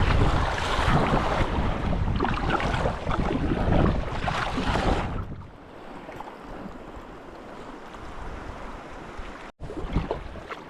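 Strong sea wind buffets a microphone on a kayak, a loud roaring rush that drops to a quieter steady blow about halfway through, with water washing underneath.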